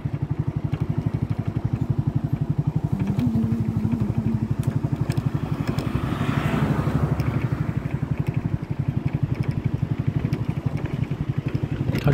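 A motorcycle engine runs steadily and close throughout, a continuous rumbling drone on the approach to a suspension footbridge in a hilly area, with no speech over it.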